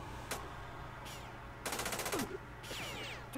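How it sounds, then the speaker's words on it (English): Automatic gunfire in the Jagged Alliance 2 Urban Chaos mod: a fast rattling burst in the middle, with a few shorter bursts and single shots before and after, over a steady low game hum. "Taking heavy fire"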